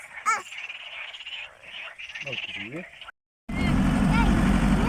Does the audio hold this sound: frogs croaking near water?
yes